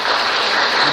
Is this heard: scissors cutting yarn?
no